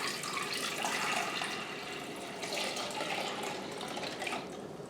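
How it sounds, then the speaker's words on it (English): Cold water runs from a tap into a pot over raw eggs, a continuous splashing, gurgling pour that holds fairly steady and close throughout. "I'm going to pour cold water on top of my eggs"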